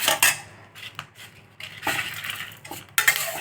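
Ingredients for puliyodharai being dry-roasted in a pan, with a spatula scraping and clinking against the metal in short irregular bursts, close by and without speech.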